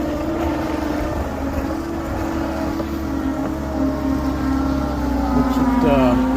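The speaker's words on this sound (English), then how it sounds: "Skid steer." A skid steer loader engine idling and running steadily at a wet log yard, a low droning hum with a sustained tonal whine, fairly close, rising slightly toward the end.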